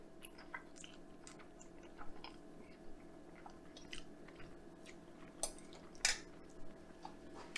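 Soft, close chewing of a bite of shrimp Alfredo with hardwood-smoked bacon, quiet wet mouth sounds and faint clicks of cutlery on a dish, no talking.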